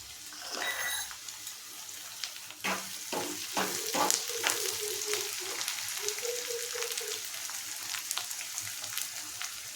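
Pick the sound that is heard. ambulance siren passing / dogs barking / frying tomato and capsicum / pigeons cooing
frying tomato and capsicum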